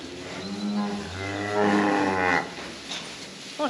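A heifer lets out a single long, deep, close moo that swells and fades over a couple of seconds inside a barn, with some shuffling noise around it.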